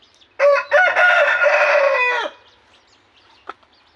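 A fighting rooster with wing injuries crows once, a loud, drawn-out call lasting about two seconds, close by, followed by quiet with a faint click.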